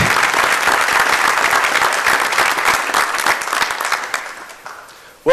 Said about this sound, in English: Ladies and gentlemen, round of applause for Docclock.